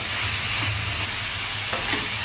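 Broad beans dropped into a pan of onions frying with ginger-garlic paste, giving a steady close sizzle with faint stirring scrapes and no voices.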